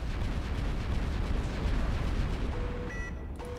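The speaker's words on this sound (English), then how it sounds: "And it's a massive EMP barrage." A massive EMP barrage detonates in a space strategy game, a dense, continuous roar of overlapping blasts filling the whole stretch at steady loudness, with faint tonal beeps near the end.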